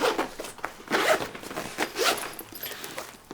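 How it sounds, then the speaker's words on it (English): The zipper on a SOG Ninja daypack is pulled open in several quick rasping strokes, close and crisp, each stroke a short burst that rises and fades, with no voices. "The zipper feels good."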